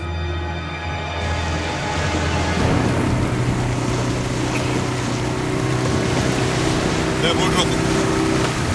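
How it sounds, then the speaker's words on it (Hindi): A motorboat engine drones steadily as the boat moves across open water, loud and continuous with wind and water noise mixed in, its pitch shifting as the boat picks up speed. "बोट रोको दे।"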